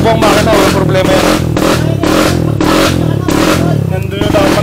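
A motorcycle engine runs loud and close on a rough track, its rhythm rising and falling in repeated revving surges, with people talking over it.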